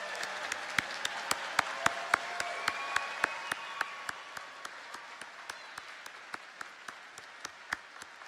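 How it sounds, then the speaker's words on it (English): A university convocation crowd applauds baccalaureate graduates, with sharp individual claps standing out over a steady wash of clapping throughout, fairly distant and easing slightly toward the end. "Please join me in an additional round of applause for our baccalaureate graduates one more time."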